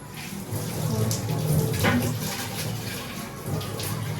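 Old Coca-Cola bottles are rinsed under running tap water, making a steady close splashing gush that swells and eases slightly as the bottles shift beneath the stream.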